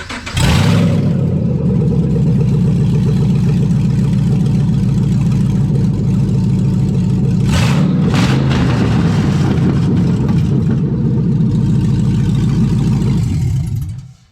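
A Camaro SS V8 with straight headers idles loud and rough for about fourteen seconds, a deep lumpy rumble with a brief rev in the middle before it shuts off.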